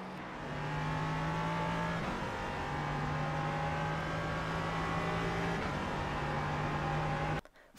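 LMP3 prototype race car engine at Oulton Park in iRacing, a steady sustained drone with gear shifts around every couple of seconds, loud and continuous until it cuts off abruptly near the end.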